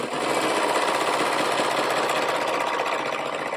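A serger sews a seam on a pair of shorts, a steady, loud, continuous mechanical whir with a rapid stitching rattle that runs unbroken from start to finish, with no voices.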